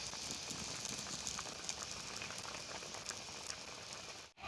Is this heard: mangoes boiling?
yes